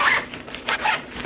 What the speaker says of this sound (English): They also compress, so here's like the extra zipper.